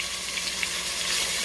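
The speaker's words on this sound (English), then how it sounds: "I'm just going to sear it on, just kind of sear it" Meat searing in a hot pan for birria tacos, seasoned with garlic, salt and pepper, gives a steady, loud close-up sizzle with small crackles and pops throughout.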